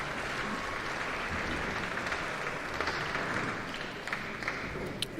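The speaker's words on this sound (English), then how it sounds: "Huge round of applause" Sustained audience applause fills a concert hall at the 2023 New Zealand Brass Band Championships as Ascot Park Hotel Brass takes the stage, a dense, steady clapping that holds evenly throughout.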